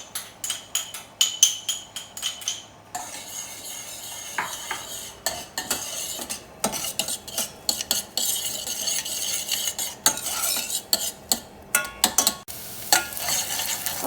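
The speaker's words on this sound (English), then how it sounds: "we've just been sauteing the onion and garlic for about 3 minutes" Onion and garlic sauté in a pan for a vegan shiitake and chickpea soup, heard as a soft background sizzle broken by frequent clinks and scrapes of a utensil against the pan.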